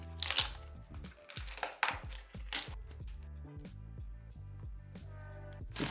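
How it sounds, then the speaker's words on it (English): Taking apart a cured carbon fibre mold gives a string of close, sharp cracks, clacks and hollow knocks, some with brief ringing tails, irregular and sometimes in quick clusters, softening toward the end. "Straight after started disassembling the mold."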